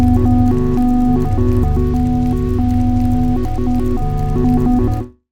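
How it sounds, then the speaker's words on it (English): A synth arp pad with amplifier feedback turned up plays a repeating stepped melodic arpeggio over a thick, gritty bass drone, loud and continuous with no talking, ending abruptly. "So it just kind of adds some distortion and bass to the overall sound,"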